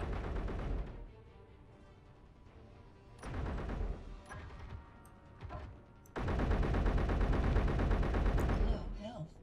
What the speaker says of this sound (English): it's killed me and started shooting at your vehicle